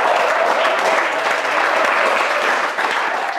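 Studio audience at a celebrity quiz show bursts into loud, dense applause that holds steady and continuous, a thick wash of many hands clapping close together with a slight dip near the end.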